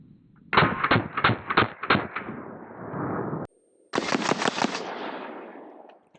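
Seven 9mm handgun shots are fired at an armor shirt, a first rapid burst of sharp cracks with ringing tails, then a pause and a second tight cluster, loud and close outdoors.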